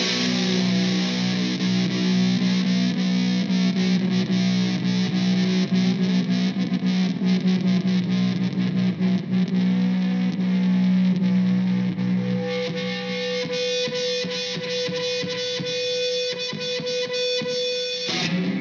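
An electric guitar pickup excited by a magnetic pick held near the strings, run through distortion, gives a loud, continuous, buzzing strummed drone whose tone shifts brighter partway through.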